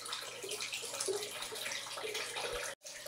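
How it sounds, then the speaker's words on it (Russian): Water runs steadily from a bathroom tap with a broad hissing splash, briefly cutting out near the end before resuming. "включил воду"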